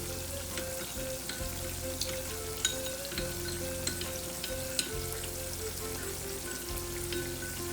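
Chicken pieces coated in cornflour batter sizzle and crackle steadily in hot oil, a continuous close frying hiss with small pops and occasional stirring clinks, no voices.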